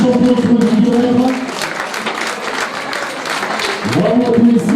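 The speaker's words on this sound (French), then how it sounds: "Allez, applaudissements pour les 3 messieurs, mais aussi les 3 dames." Outdoor crowd applause for the winners at a trail running race, a broad steady wash of clapping through the middle, with a voice on a loudspeaker at the start and end.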